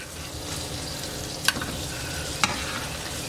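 Green tomatoes fry in hot oil with a steady, close sizzle, broken by two brief sharp clinks of a utensil against the pan.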